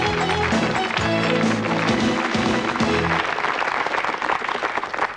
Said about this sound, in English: A big round of applause, please, for both teams as we go into round one.